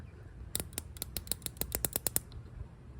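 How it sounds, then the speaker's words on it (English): A rapid series of sharp metallic clicks from an ironcube metric ratcheting wrench, about a dozen in a quick uneven rhythm, close and fairly quiet. "just to hear the ratcheting of it"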